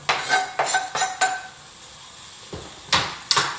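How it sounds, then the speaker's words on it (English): Mushrooms and zucchini tossed in a pan, heard as a series of sharp clattering scrapes and knocks of utensil against pan, in short bursts with quiet gaps between. "So it's got a bunch of mushrooms, bunch of zucchini, in the pan it goes"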